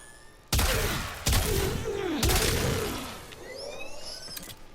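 Fulmin weapon in Warframe fired in shotgun mode: three heavy broadband blasts spaced about a second apart, each trailing into a descending electric whine, followed by fainter crackling tail and a couple of sharp clicks.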